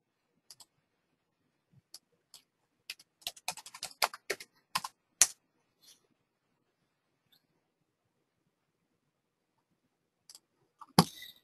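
Someone types a login on a computer keyboard in a quiet room, with scattered clicks that build into a quick dense burst of keystrokes, then fall silent before a few final taps.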